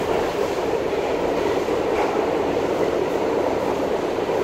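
Crowded rush-hour train in motion, a loud, even rumble of wheels and carriage running steadily from start to finish with no talk.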